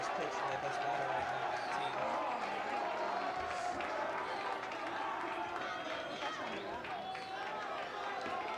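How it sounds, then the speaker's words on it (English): A home crowd at a high school baseball playoff game, Memorial versus Kearny, gives a sustained, roaring cheer. Someone commentates over the noise. "The Memorial crowd is on their feet"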